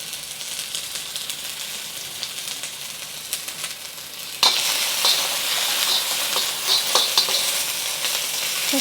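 White parts of green onions frying in a tablespoon of hot vegetable oil for mapo tofu, a steady sizzle that jumps to a louder, brighter crackle halfway through as the onions hit the pan, with no talk.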